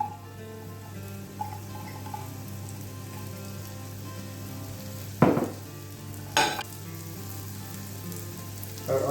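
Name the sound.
button mushrooms frying in a pan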